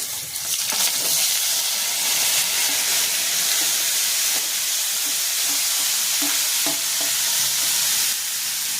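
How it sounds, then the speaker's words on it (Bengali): Cauliflower and potato frying with spices in a pan, a loud continuous hiss and sizzle with occasional stirring scrapes, close and steady throughout. "এবার আমি কপিগুলো ছেড়ে দিচ্ছি, কপি আলুটা, মশলাটা যাতে পুড়ে না যায়।"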